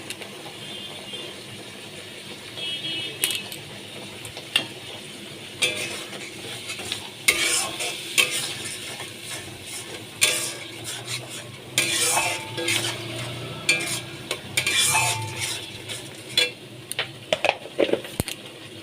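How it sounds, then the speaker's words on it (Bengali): Prawns stir-fried with turmeric, salt and spices sizzle steadily in a pan, with irregular scraping and clinking strokes from a spoon against metal, up close and with no talking. "এবার মশলা দিয়ে আমি কষিয়ে নেব"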